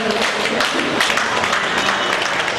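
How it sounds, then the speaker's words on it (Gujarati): Dense audience applause fills the space at a Gujarati news event, steady and sustained clapping from a sizeable crowd, close and loud throughout with a faint voice now and then underneath. "જોરદાર તાળીઓથી આપણે સ્વાગત કરીએ"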